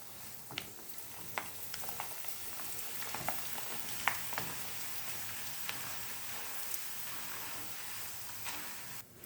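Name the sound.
frying corn flakes in a pan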